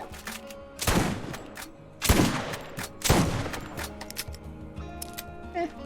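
Three loud shotgun blasts ring out about a second apart in the Borderlands video game, each a sharp boom with a short decaying tail, separated by quieter in-game background noise.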